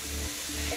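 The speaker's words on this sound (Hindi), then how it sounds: "जैसे ही प्याज सॉफ्ट हो जाए सिजलिंग की आवाज आ रही है" Chopped onions sizzle in a pan while being softened for chicken cheese patties. The frying hiss is steady and close, with a low hum underneath.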